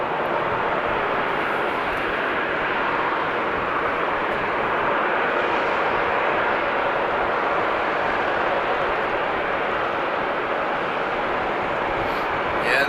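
A Boeing airliner taxis at Amsterdam Schiphol, its engines producing a loud, steady broadband roar throughout with no distinct thump from the intersection bump standing out.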